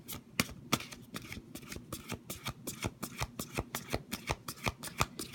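A deck of guidance cards is shuffled by hand, giving a quick run of crisp, rhythmic riffle snaps close by, repeated many times without a break.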